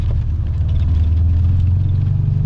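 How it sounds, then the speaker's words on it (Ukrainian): An AZLK 2140 Moskvich rolls over a badly potholed road, heard from inside as a loud, steady low engine rumble with faint rattles above. "Я буду їхати по тій же дорозі, там, де дуже багато ям."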